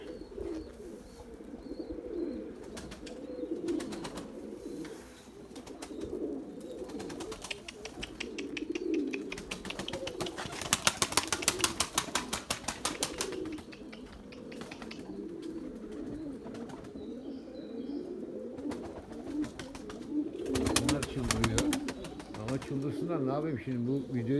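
Pigeons in a loft coo softly and continuously in low, rolling murmurs, with occasional louder bursts of flapping wings and a rather distant, roomy feel.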